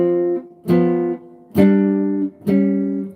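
A jazz guitarist plays two-note shell voicings of thirds and sevenths with no bass line underneath, striking four separate chords in a slow, even rhythm, each one ringing and fading before the next, with no talking.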